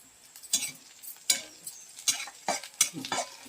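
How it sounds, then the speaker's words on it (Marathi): Onion and fresh curry leaves being sautéed in a pan, with a soft background sizzle broken by sharp, irregular stirring scrapes of a spoon against the metal, fairly quiet and close. "हे बघा, आपला कांदा पण परतलाय छान."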